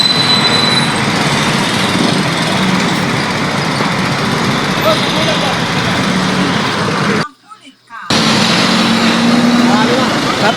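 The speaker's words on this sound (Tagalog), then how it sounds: "Tapos sumasabay pa itong mga heavy equipment." Heavy road traffic on Quirino Highway with heavy equipment mixed in, a loud continuous engine roar and rumble that cuts out briefly near the end, with talk underneath.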